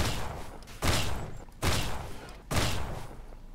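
Three heavy gunshots in the survival game Mist Survival, spaced under a second apart, each a loud broadband blast with a short decaying tail, over a steady ambient hiss.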